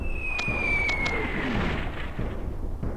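Gunfire volleys boom in Warhammer: Shadow of the Horned Rat, dense rumbling bursts with a few sharp cracks and a falling whistle over a constant loud battle din, and no voices.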